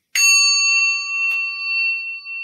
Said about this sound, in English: I'm going to ring the little bell.